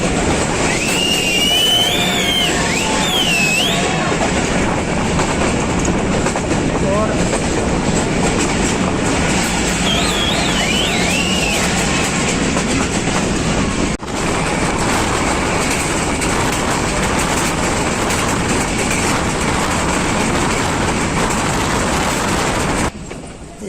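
Pakistan Railways' Awam Express runs on the rails near Jahangira Road on the Rawalpindi to Peshawar line, a loud, close, continuous rumble of wheels and carriages with a steady clickety-clack that holds without a break.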